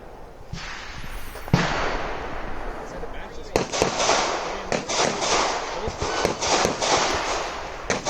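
Pistol shots ring out at an outdoor USPSA shooting match as a series of sharp, loud cracks, some in quick pairs and others spaced apart, over several seconds with faint background noise.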